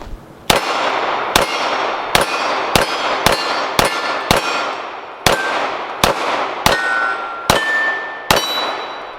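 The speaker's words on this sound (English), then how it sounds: "We'll shoot that, make sure that runs well" A Smith & Wesson 4006 TSW .40 pistol fires Sig Sauer 165-grain hollow points at a range: about a dozen sharp, loud shots in a steady, fairly quick string, each ringing briefly, with no talking.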